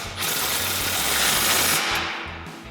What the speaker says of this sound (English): your 15 mil socket on your impact